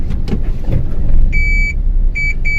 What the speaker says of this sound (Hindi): अभी हमें पीछे करवा रहे हैं गाड़ी को